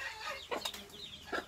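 Chickens cluck softly and briefly in a quiet farmyard, three short clucks spaced apart and heard faintly.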